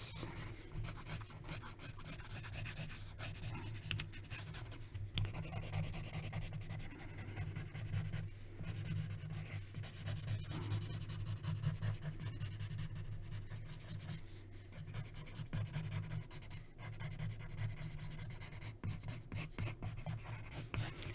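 Pencil or pen scratching and rubbing steadily on paper while a Wolverine figure is sketched, a continuous close, quiet rasping with small strokes and pauses and no speech.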